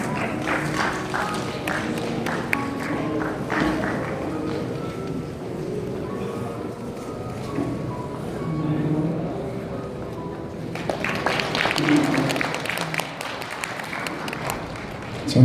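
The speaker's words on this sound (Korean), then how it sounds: "뜨거운 박수로 맞이해 주시기 바랍니다." An audience applauds at a political party rally, with scattered clapping and crowd noise rising near the end, mixed with a murmur of voices throughout.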